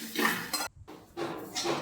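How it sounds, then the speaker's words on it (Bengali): A spoon scrapes and knocks against a pan while ridge gourd peel paste is stirred, a few short clinking strokes with a brief pause in the middle. "আর একটু হবে, তো সেই ক্ষেত্রে আমি নাড়তে থাকছি।"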